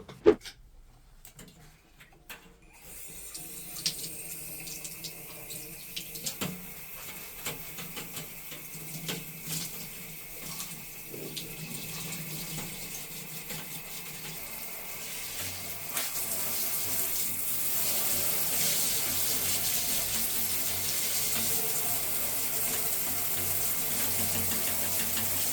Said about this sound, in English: let's go and take this baby into the shower